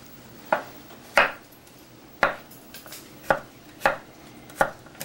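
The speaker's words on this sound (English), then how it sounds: "chopping up the garlic" A knife chops garlic on a cutting board in sharp, irregular knocks, about six strikes spaced roughly a second apart, close and clear with no talking.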